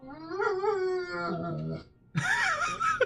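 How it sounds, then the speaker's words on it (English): A pet dog whines and howls up close indoors, a long wavering drawn-out cry that fades, then after a brief pause a higher, sharper whining howl resumes. "Sadie, what are you crying about?"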